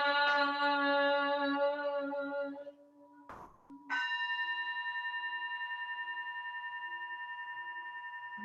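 A resonant temple bell tone at a morning service fades out, then a bright strike starts a new long, ringing tone that slowly decays with a gentle pulsing shimmer.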